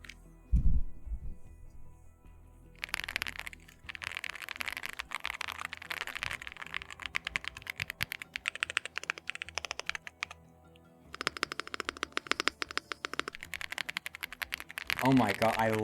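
Close, crisp typing on a Rainy 75 mechanical keyboard: a single thump, then bursts of fast clacking keystrokes with short pauses between runs.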